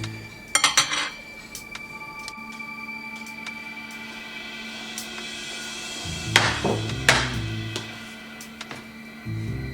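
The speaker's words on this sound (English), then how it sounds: "Now we're gonna add our spaghetti sauce, which is pretty hot. Stir that all up." A utensil stirs hot spaghetti sauce into noodles in a pan, making loud metallic clanks and scrapes in a short burst near the start and again later, with quieter kitchen rattles between.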